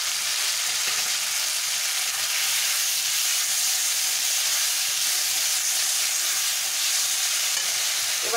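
Chopped large tomatoes hit a hot pan for an Assamese sour fish curry, setting off a loud, steady hissing sizzle that holds evenly throughout without any voices.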